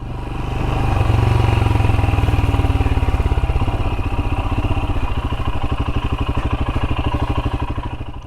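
Royal Enfield Himalayan motorcycle engine running close by, a steady low thumping beat that stays loud and even throughout, with no talk over it.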